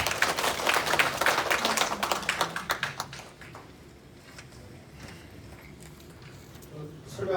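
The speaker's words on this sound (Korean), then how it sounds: "다시 한번 큰 박수 부탁드립니다" Audience applause at a Tamna Cultural Festival briefing session in Jeju, a dense burst of clapping for about three seconds that fades to a quieter room with scattered claps and light background noise.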